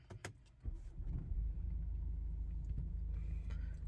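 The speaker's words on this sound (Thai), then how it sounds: "เหยียบเบรกแล้วกดสตาร์ทกัน" A 2019 BMW X3 20d diesel engine cranks and catches, then settles into a steady low rumbling idle after a few quiet clicks.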